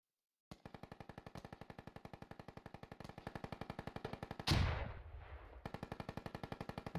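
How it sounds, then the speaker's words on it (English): Sustained machine gun fire in the combat game Squad: a long, fast, even burst of close shots, a brief heavy blast midway, then the rapid fire carries on. "Those machine guns really are deadly."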